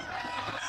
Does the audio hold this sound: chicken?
yes